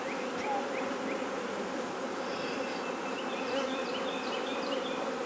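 Honeybees swarm around a hive being set up on move-in day, a dense, steady buzz that fills the whole clip at close range, with individual bees zipping past the microphone now and then.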